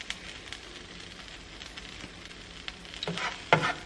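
A lobster grilled cheese sandwich sizzles in a pan with a soft, steady fry, then a few louder scraping and pressing noises near the end.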